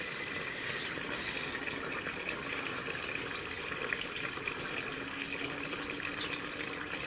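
Water pours steadily into an off-grid laundry washer container, a continuous close hiss and splash with no pauses and no voices.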